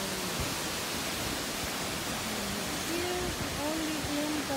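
Katibawasan Falls, a waterfall on Camiguin in the Philippines, gives a steady broadband rush of falling water, constant and fairly close, with faint tonal voices or birds drifting over it near the end.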